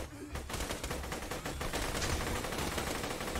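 Dense bursts of rapid gunfire from a gun in a cartoon-style Mad Max video game, loud and continuous like a machine gun, with no talk over it.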